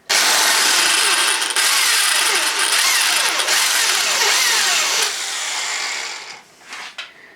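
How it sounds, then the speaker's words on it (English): A power drill bores out rivets holding Triumph motorcycle heat shields together, a loud, sustained high-pitched whine and metallic grinding for about five seconds before it winds down and stops, with a few short clatters after. "let's get those drilled off so I can take those two apart"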